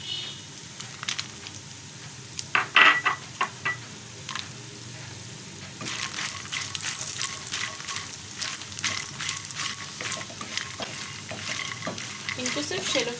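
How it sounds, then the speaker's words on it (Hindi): Makhana (fox nuts) shallow frying in ghee in a kadai, a soft crackling sizzle broken by repeated stirring scrapes and light clinks of the spoon against the pan. "इनको सिर्फ शैलो फ्राई करना है।"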